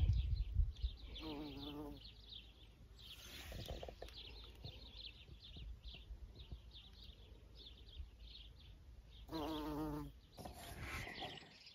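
Bees buzz steadily nearby around dandelions, a soft continuous drone rising and fading, with a couple of brief louder bursts and faint background birds.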